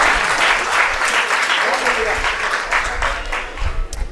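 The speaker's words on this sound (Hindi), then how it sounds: "ये जो मेरे आने पर आपने घनघोर तालियां बजाई हैं" A poetry gathering audience at an All India Kavi Sammelan claps loudly and continuously, a dense roar of applause filling the whole stretch without pause.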